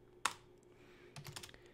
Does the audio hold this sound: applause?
no